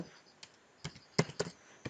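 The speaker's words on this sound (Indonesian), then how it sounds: "langsung mengetik saja di huruf-huruf dalam bahasa Inggris itu" Typing on a computer keyboard while writing English text in Microsoft Word: a handful of quiet, scattered keystroke clicks at an uneven pace, close and alone.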